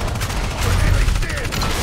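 Rapid bursts of gunfire from the Evolve Stage 2 game, played as Griffin, sound loud and dense in a continuous fusillade over deep booming rumble for the full span.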